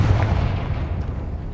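A Confringo spell blast from the Hogwarts Legacy video game bursts as a loud, close, booming impact with a rumbling low tail lasting over a second, with no talk.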